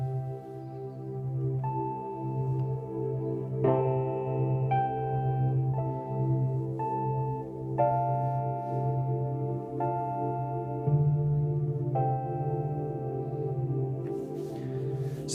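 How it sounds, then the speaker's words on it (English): A Roland VR-09 electric piano voice layered over an ambient pad plays a steady sequence of sustained chords and single notes above a continuous low drone, moderately quiet with no talking. "Setting 1 is electric piano with pad."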